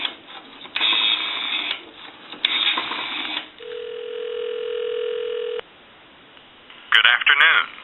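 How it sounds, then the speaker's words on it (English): An AE three-slot payphone converted to a regular line: bursts of noisy clicking, then a steady dial tone held for a couple of seconds, followed by quick warbling dialing tones, all loud and close. "Give you some dial tone."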